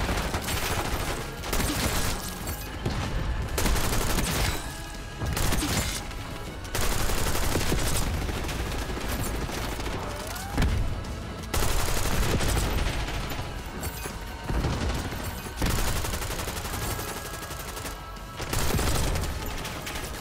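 SMG fire rattles across a Call of Duty Black Ops 6 multiplayer match, fairly quiet bursts of rapid gunfire repeating every couple of seconds with brief lulls between them.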